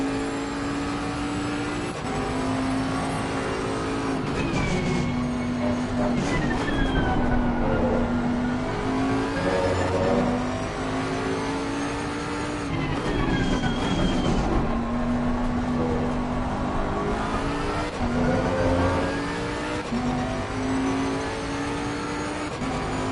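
Ferrari race car in Assetto Corsa Competizione at Imola, its engine droning loud and steady with rising and falling revs through gear changes, continuous for the whole stretch with no talk.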